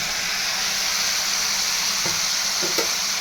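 Spices and chilli fry in a pan with a loud, continuous sizzle, while a few scraping stirs come through near the end; no one talks.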